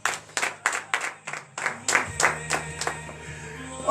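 A church congregation at a morning prayer service in Benin claps in acclamation, sharp steady hand claps repeating at a quick, even rhythm close to the microphone, with a murmur of voices underneath.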